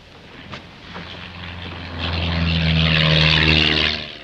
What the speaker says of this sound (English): That plane's flying low. It'll pass right over the island.